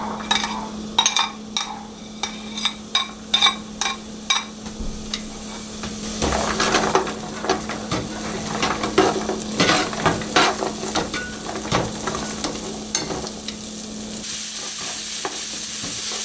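Onions and other vegetables sautéing in olive oil in a hot pan for pumpkin soup, a steady sizzle broken by repeated sharp scrapes and clacks of stirring, close and fairly loud with no talking.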